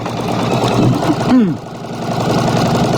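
A sewing machine chain-stitches quilt blocks one after another. It makes a loud, close, continuous mechanical hum with a steady pulsing rhythm that runs the whole time, with no voice over it.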